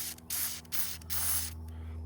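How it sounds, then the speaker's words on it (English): PB Blaster penetrating oil sprayed from a can onto a stuck bolt, four close, loud hissing bursts in quick succession, the last one held longest. "Sprayed it again with some of the PB blaster."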